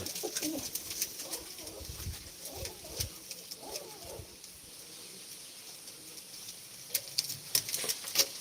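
Pigeons cooing in soft, low, repeated calls from nearby birds, mixed with faint rustles and taps.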